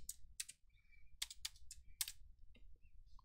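Keys are typed on a computer keyboard while entering a time value into an Excel formula: a quick, quiet run of sharp clicks in small bursts with short pauses between them.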